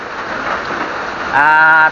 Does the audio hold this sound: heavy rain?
yes